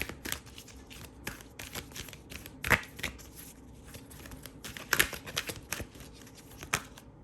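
Oracle cards are shuffled by hand during a tarot-style reading, producing close, soft papery riffles with a few sharper slaps and snaps at irregular moments, alone without speech.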